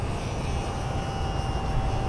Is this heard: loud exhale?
no